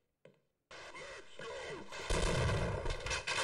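A shotgun blast fired in Half-Life sounds as a short sharp crack, then after a pause a heavy roaring burst that swells louder and rumbles on to the end.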